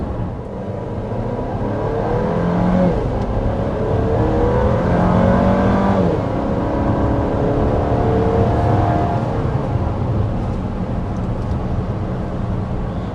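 2024 Chevy Traverse Z71 SUV accelerating on the road, engine note rising through several smooth upshifts with steady road and wind noise underneath, heard from inside at a moderate level without talk.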